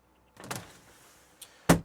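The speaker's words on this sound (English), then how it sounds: "we've got the nice gloss black tambour door" A gloss black tambour door in a camper van sliding, with a short rolling rattle, a brief tap and then a sharp closing clack, close and isolated.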